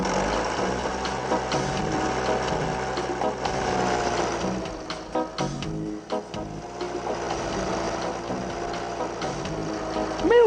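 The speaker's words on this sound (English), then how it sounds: "as Mrs. Stubble was polishing the tractor, she accidentally started the engine." Farm tractor engine starting and running, a steady mechanical chug that stays fairly loud and close, with some clattering knocks partway through.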